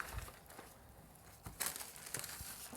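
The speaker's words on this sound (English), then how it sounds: "because I'm going to crumple." Wrinkled paper is crumpled for sound effects, giving faint, irregular crinkling bursts and crackles that grow busier and louder in the second half, with no talking.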